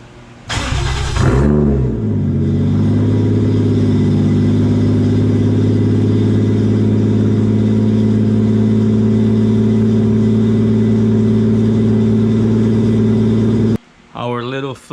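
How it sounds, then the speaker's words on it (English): A 1JZ VVTi engine with a Tomei turbo starts with a sharp rev, then settles into a loud, steady idle close by, with a brief burst of talk near the end. "at least I know the motor is running good, no problem now"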